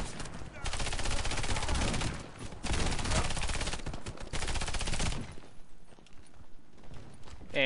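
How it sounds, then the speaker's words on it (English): A silenced M99AS submachine gun fires in the video game Warface, rapid muffled bursts in long stretches of automatic fire broken by short pauses, close and dense with no talk. "this gun I am using here is called the M99AS submachine gun"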